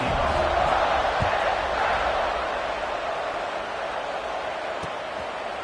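Broad, steady roar of a college football stadium crowd waiting for kickoff against LSU, a dense wash of distant cheering that fades slightly over several seconds.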